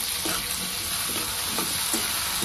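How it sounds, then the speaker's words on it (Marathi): Chopped tomatoes sauté in hot oil with peas, a close, steady sizzle broken by a few soft stirring scrapes. "टमाटे पण 1 मिनिट छान असं तेलात परतायचं आपल्याला।"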